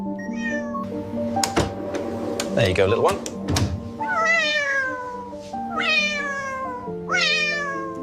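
A cat meows several times in a row, the drawn-out calls clear and close, while a person speaks softly nearby and there are a few knocks and handling thumps; the cat is recovering after veterinary care.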